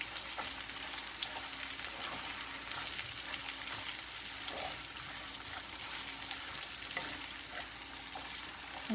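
Amla, ginger and green chilli roast in a pan over medium heat for pickle, giving a steady, even sizzle and frying hiss throughout with faint stirring.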